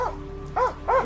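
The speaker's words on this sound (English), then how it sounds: "With one more suspect on the run, the cops send a dog in." A police dog barks during a search for a fleeing suspect, giving two sharp barks after a low growl, close and fairly loud, with no voices.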